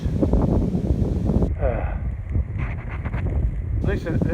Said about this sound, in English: Yeah, it's too windy.